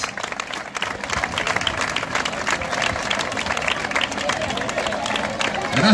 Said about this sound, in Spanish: Este primer aplauso es muy especial.